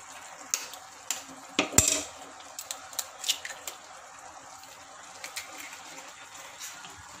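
An egg cracked and poured into noodles, a few sharp shell-and-bowl clinks followed by soft wet dribbling and light utensil taps, close and fairly quiet with no voices.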